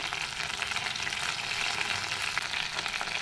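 Ingredients for Burma noodles, seasoned with salt and turmeric, fry in a pan with a steady, moderate sizzle and soft stirring, with no voices.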